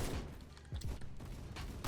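Rapid gunfire from a Roblox shooter game during a trick shot, a dense volley of sharp cracks crowding the whole two seconds with a loud burst at the end, no talking.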